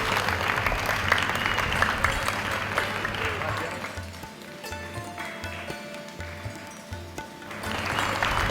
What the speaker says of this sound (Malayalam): നല്ലൊരു ക്ലാപ്പ് കൊടുക്കാം.